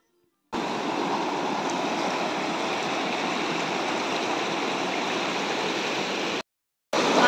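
A shallow river flows steadily where clothes are being washed, giving a continuous close rushing and gurgling of water that runs unbroken for several seconds before cutting off abruptly.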